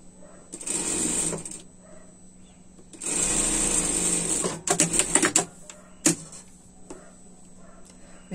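A domestic sewing machine stitches a seam on a winter pet dress in short motorized bursts, one around a second long and a longer run of about two seconds, then a few quick stuttering pulses, with quiet pauses between.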